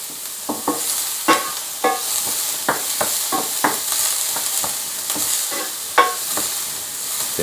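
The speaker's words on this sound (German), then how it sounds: "Und jetzt schön die Zwiebel anschwitzen." Onions sweat in sunflower oil in a pan with a steady sizzle, while a utensil stirs and scrapes in sharp, irregular clacks, loud and close, with no talking.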